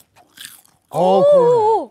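A crunchy, unseasoned fried gangjeong snack gives a brief, close crisp crunch as it is bitten, then a voice lets out a drawn-out exclamation.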